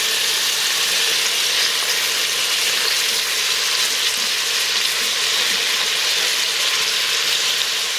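Pieces of pork searing in hot oil for carnitas, a loud, dense, steady sizzle with crackling and popping throughout, no voices.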